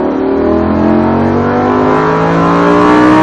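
A Lamborghini's engine roars loudly and continuously as the car accelerates around a racetrack, the pitch climbing steadily with no voices heard.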